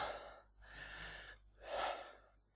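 A person draws deep, audible breaths before a parkour attempt, two long airy inhales and exhales about a second apart, close and fairly quiet with no talk.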